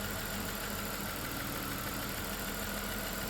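A 1997 Dodge Grand Caravan SE, abandoned on a farm for over four years, idling with a steady, even engine drone throughout, close and unbroken.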